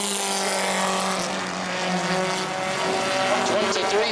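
Bomber race car number 9 roaring past on a qualifying lap at New Smyrna Speedway, a loud sustained engine drone rising in pitch, with an announcer talking over it.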